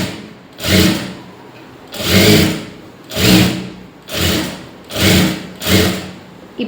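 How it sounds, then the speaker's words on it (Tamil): Sewing machine stitching a blouse lining in six evenly spaced bursts of a close whirring motor, each about a second long, separated by brief pauses. "அதுக்கு மேலேயே ஒரு தையல் போட்டு எடுத்துகிட்டு வாங்க"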